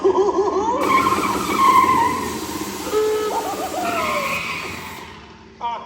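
A taxi skids to a stop in a theme-park show: a loud, sliding squeal with rising and falling whistle-like tones over a busy noise bed, running for several seconds before fading out.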